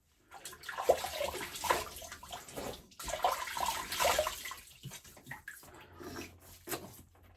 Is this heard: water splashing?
yes